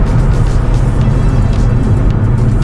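Nissan C34 Stagea with an automatic transmission on a Nexus R3 controller, heard from inside as the car drives, a loud steady engine drone and road rumble with firm gear changes.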